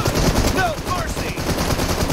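Sustained gunfire in PUBG Mobile, a dense, continuous rattle of shots close and loud, with a faint voice audible over it.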